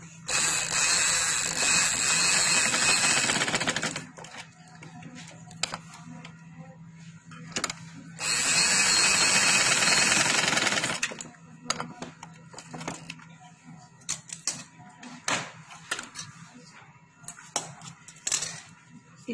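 Sewing machine stitching fabric for trousers: two loud bursts of fast, close mechanical whirring a few seconds each, separated and followed by light clicks and handling noises.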